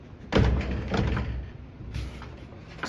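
Heavy doors on a 120-year-old Montgomery freight elevator are pushed shut, landing one loud, close thud followed by softer clunks and rattles of the metal gate.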